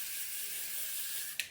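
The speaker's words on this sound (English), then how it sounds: "I'm just gonna spray a little bit there, brush it" Paul Mitchell Extra Body hairspray hisses from a can in a steady, fairly quiet stream during hair styling, ending with a short sharper puff of spray.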